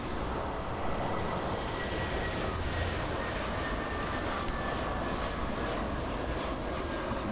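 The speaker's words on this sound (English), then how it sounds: "And there we have the Croatia Airlines Airbus A320." Croatia Airlines Airbus A320 jet at Frankfurt Airport: a steady, broad engine roar with no clear rise or fade, heard from a distance across the airfield.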